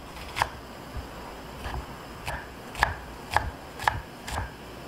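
A knife chops onion on a cutting board while vegetables are prepared for a Spanish omelette, giving about seven distinct, fairly evenly spaced chops that stand out close and clear over a quiet kitchen background.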